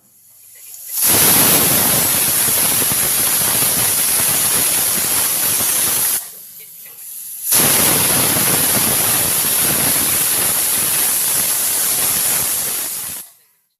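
A pressure cooker of avarekalu khara pongal whistles twice, each a loud, close, steady hissing blast lasting several seconds, separated by a brief quieter pause.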